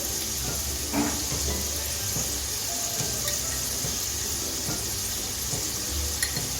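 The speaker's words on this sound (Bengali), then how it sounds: "আমি গ্যাসটা মিডিয়ামে রেখে নেড়ে চেড়ে ভালো করে আমি লাউ খোসাটা ভেজে নেব" Bottle gourd peel with salt and turmeric stirred in a pan over a medium gas flame, a steady low sizzle running throughout with soft scraping and stirring knocks, close and fairly even.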